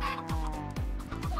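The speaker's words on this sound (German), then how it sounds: "Hier ist auch noch ein Huhn, was festsitzt irgendwie." Chicken clucks from the video game Minecraft, three short clucks evenly spaced over a sustained musical drone, loud and close.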